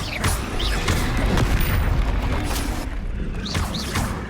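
Spell blasts from Confringo and Bombarda in the Hogwarts Legacy video game: a dense, continuous run of loud, booming explosions and crashes that overlap one another with almost no pause.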